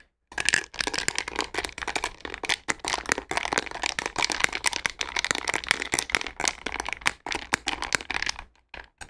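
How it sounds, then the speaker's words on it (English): Ice cubes rattle and crackle in a glass of sweet soda pop as it is stirred, a dense run of close, crisp clinks and crunches lasting several seconds before trailing off. "Hear that ice? The ice is like already melting in it."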